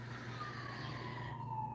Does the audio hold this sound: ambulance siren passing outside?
yes